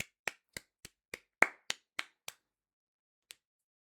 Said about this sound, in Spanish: Acá vamos a aplaudirlo.